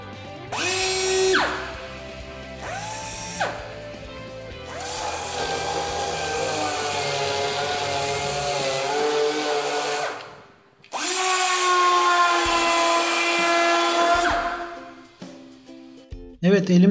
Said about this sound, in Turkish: Kısaca nasıl çalıştığını da gösterelim